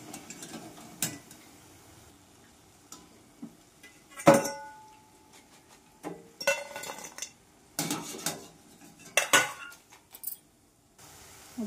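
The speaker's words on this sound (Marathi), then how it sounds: "आता भजी काढून घेणार आहे आपण." Fried bhaji are lifted out of hot oil, with sparse metallic clinks and scrapes of a utensil against the pan, separated by quiet gaps.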